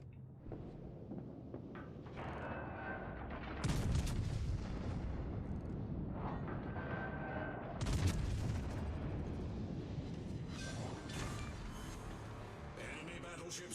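Naval gunfire from warship batteries in World of Warships Legends, with heavy booming salvos around the four- and eight-second marks over a steady rumble of battle, while a voice talks throughout.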